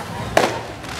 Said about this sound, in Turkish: Havai fişeklerine karşıyız.